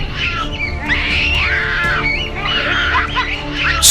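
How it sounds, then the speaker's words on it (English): Gelada monkeys scream during a fight in the Ethiopian mountains, high shrill overlapping cries that run on continuously, loud and close, over a constant rough background. "Screams echo across the mountainside,"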